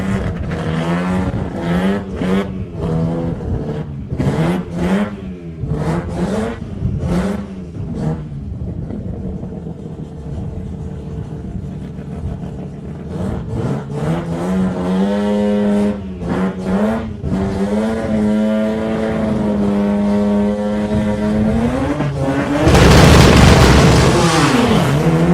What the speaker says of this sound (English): they've got to keep the revs up high in these cars to make them launch properly